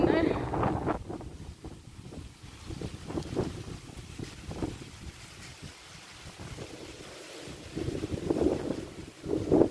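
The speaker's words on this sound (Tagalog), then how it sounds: "Usugas hangin eh." Strong wind buffets a small boat at sea, a steady roaring rush with gusts rising and falling under brief snatches of talk, loudest near the start and end.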